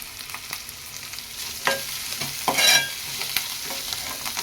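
Curry leaves crackle and fry in hot oil with raw prawns for an Andhra-style gongura prawn curry, sizzling steadily while a spoon stirs and scrapes the pan in short bursts, with no talking.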